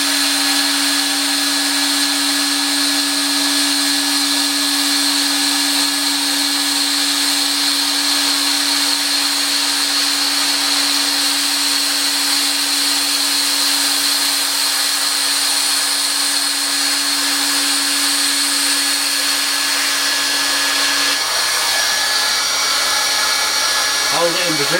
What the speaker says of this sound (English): we'll run along here with the tacking nozzle.